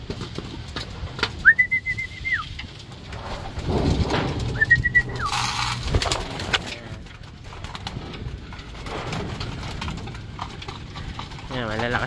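Pigeons in a small loft fitted with new perches give a few soft coos and calls, with fluttering and hard clip-clop-like knocks on wood under steady talk throughout.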